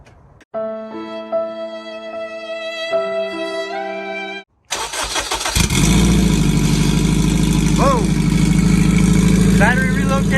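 A stock Honda EG hatchback street car with a relocated battery cranks and fires up. A clear, ringing tonal sequence comes first, then the engine bursts into a loud, rough idle that runs steadily close by.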